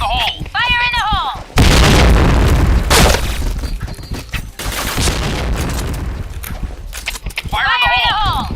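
In an online shooter game, grenade explosions burst loud and close, with heavy booms and debris crashes between short chirpy game sounds, while a player talks excitedly over the action.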